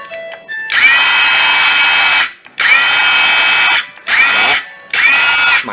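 A cordless Makita drill runs loud and close in four sustained whirring bursts, each revving up and winding down with short pauses between them.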